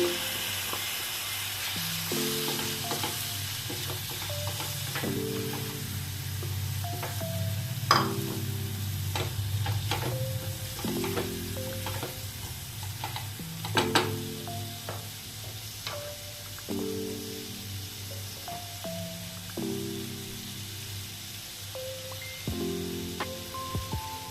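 Prawns fry with coriander powder and chilli powder in a pan under a continuous soft sizzle, with intermittent scraping stirs and a low steady hum running underneath.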